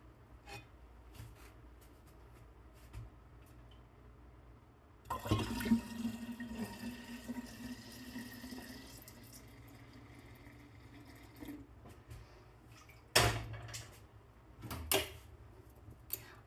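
Cold water gushes from a tap into a container, a steady rushing pour with a few louder splashes and clunks toward the end.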